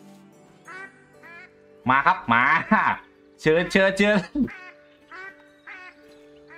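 Duck call and duck quacks in the hunting game theHunter: Call of the Wild, heard as short bursts of harmonic quacking between about two and four and a half seconds, loud against a quiet background, while someone talks around them.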